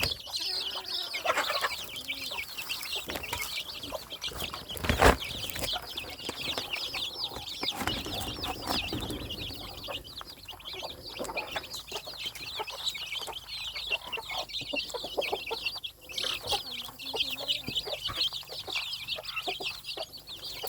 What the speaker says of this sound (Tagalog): Ayan po yung ating mga inahin naman. Tandang po at dumalaga.